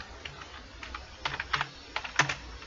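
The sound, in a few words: typing on computer keyboard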